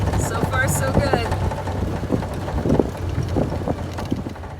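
A 1929 Ford Model A Roadster drives along, its low engine rumble steady and close beneath strong wind buffeting the microphone, with a person talking over it.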